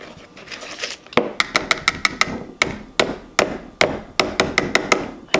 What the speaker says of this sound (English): Just gonna whisk it up a little bit.